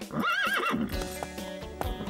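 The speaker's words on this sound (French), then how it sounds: "Tout doux, mon grand, gentil cheval." A horse in an animated Strawberry Shortcake film gives a single close, clear neigh with a rising and falling whinny, followed by a brief snort.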